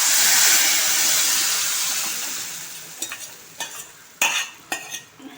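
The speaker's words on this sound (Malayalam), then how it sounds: "ഇനി അതിലേക്ക് കലക്കി വെച്ചിങ്ങനെ ഉലുവയെ ചേർത്ത് കൊടുക്കാം." A soaked fenugreek mixture hits a pan of frying coconut, onion, and curry leaves for a Kerala fenugreek curry, letting out a loud burst of sizzling that slowly fades, followed by several sharp spoon scrapes and knocks against the pan.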